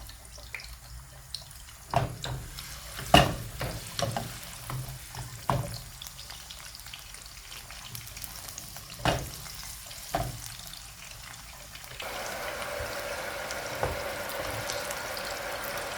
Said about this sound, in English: The onions, the chopped onions, I'm going to add it to the pan and I fry it.